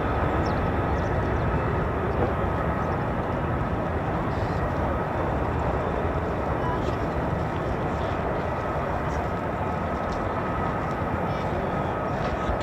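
An F-15 or F-35 fighter jet landing at RAF Lakenheath gives a steady, broad roar that holds evenly throughout, fairly distant and unbroken, with no clear voices.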